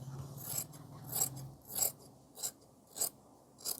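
Scissors cut through blouse fabric during cross-cut tailoring, giving a series of short rasping snips in an uneven rhythm, close and moderately loud, with no talking.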